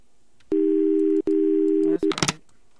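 A phone call tone in the Roblox horror game Light Bulb: two loud, steady electronic tone bursts about a second each with a brief gap, then a short clipped beep and a crackling glitch cut-off, alone in near silence.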